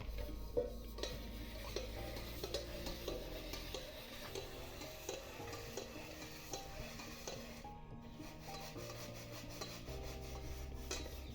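A burnt pan scrubbed clean by hand, with continuous close rasping and rubbing strokes against metal in a steady rhythm, no voices over it.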